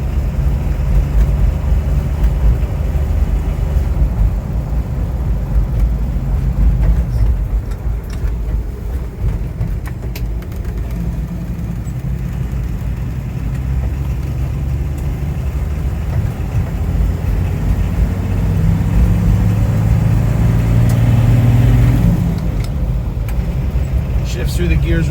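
A 1980 International Scout II Traveler turbo diesel with a 4-speed drives along, a steady low engine drone and road rumble that dips and rises as gears change, with someone talking over it.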